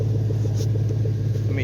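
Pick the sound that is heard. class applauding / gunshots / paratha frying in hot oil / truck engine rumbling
truck engine rumbling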